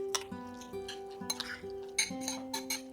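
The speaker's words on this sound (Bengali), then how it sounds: "এবার এটাকে খুব ভালো করে মিশিয়ে নিয়ে আমি স্যান্ডউইচের স্টাফিংটা তৈরি করে নেব।" Spoon stirring and clinking against a bowl while sandwich stuffing is mixed, with repeated light taps and scrapes at an uneven rhythm, close and fairly quiet, with no talk.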